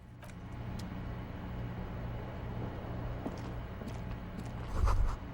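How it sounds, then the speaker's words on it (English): Street traffic from outside in the video game Disco Elysium forms a steady, low, distant rumble. It swells slightly near the end. "You hear traffic outside, back in the world again."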